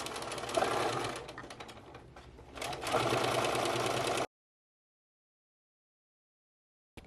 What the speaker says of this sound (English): And now sew down my third line.